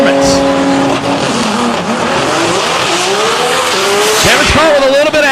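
A DCT-class drag racing car roars close by as it launches and accelerates hard down the track, the engine note climbing through gears with tire squeal, while an announcer talks over it.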